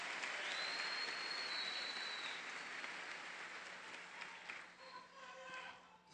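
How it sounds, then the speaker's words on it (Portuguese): A large church congregation applauds loudly and steadily, a dense wash of clapping that slowly thins toward the end, with a few whistles and voices mixed in. "Dê uma forte, bem salva de palmas."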